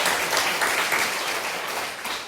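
A church congregation breaks into steady applause during a Sunday service, many hands clapping together in a dense, sustained wash that eases slightly toward the end.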